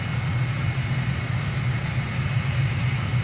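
A propeller aircraft sits on the runway at Stavanger, Norway, in Microsoft Flight Simulator, its engine giving a continuous, steady low drone with a constant hum throughout.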